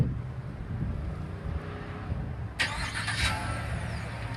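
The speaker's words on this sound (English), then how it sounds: "You can start your gorgeous pickup truck from the comfort of your home or office with the remote vehicle start." A 2017 GMC Sierra pickup with a 6.2 liter V8 is remote-started, a low idling rumble that swells as the engine catches partway through, heard up close with some wind.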